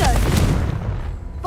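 A Confringo fire blast spell in Hogwarts Legacy, heard as a loud, close burst with a rumbling low boom that quickly fades, with a softer pop right before it.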